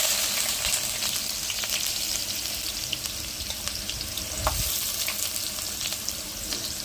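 Onions frying in oil for an Andhra mango fish curry, a steady bright sizzle across the whole stretch with small crackles and a faint knock partway through, no voices.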